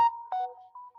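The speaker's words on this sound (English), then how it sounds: "Turn off your notifications, dude." A phone notification chime goes off during a live debate stream, a bright electronic tone with a short second note and a fading tail, loud and close with no one talking over it.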